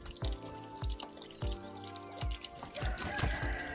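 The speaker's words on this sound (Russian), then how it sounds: "идем к цыплятам" Eight-week-old meat chickens clucking and crowing in bursts, fairly close, with splashing water and clatter in the background.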